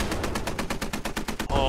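Rapid automatic gunfire in a military shooter game, about a dozen sharp bursts in steady succession, loud and close, ending in a heavier rumbling blast.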